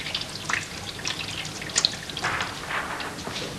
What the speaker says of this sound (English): I wash it very gently with fairly hot water till the image is clear